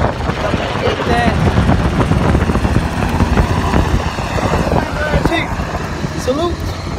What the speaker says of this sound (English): helicopter right over here above us.